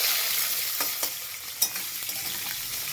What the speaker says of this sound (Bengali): আলুটা দিয়ে ভালো করে ভেজে নেবো লাল লাল করে